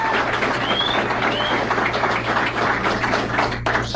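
Dense studio audience applause for comedian Gino Bisconti on a radio show, a continuous close patter of clapping over a low steady hum, holding level throughout.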